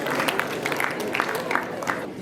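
Applause from students and audience at a senior high school maths quiz in Nairobi, a steady dense clatter of many hands throughout, fairly close and continuous, with some crowd noise mixed in.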